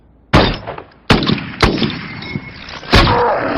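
Sniper gunshots in a Transformers 3 film battle scene: four sharp, loud cracks at irregular intervals, each with a ringing, metallic tail and echoing debris between shots.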